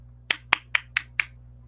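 A heron's mechanical call: five sharp, dry clapping bursts in an even rhythm, like hands clapping, close and clear over a low steady hum.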